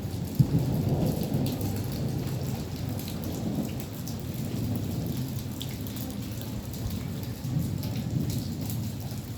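A heavy thunderstorm over Quetta with strong winds and hail: dense, loud rain pelts surfaces continuously while low thunder rumbles underneath, and a sharp drip-like tap sounds near the start.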